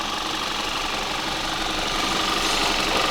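A rebuilt Audi Q5 2.0 TFSI engine runs steadily after a complete overhaul, a dense, continuous mechanical drone with a busy ticking texture that stays at an even, fairly loud level throughout, with no talking.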